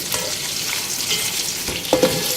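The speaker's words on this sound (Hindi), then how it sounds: "प्याज को आपको यहाँ बहुत अच्छी तरह से फ्राई करना है।" Medium-sized onions frying in a pan for dhaba-style bhindi, a steady loud sizzle with occasional stirring scrapes and pops, close up.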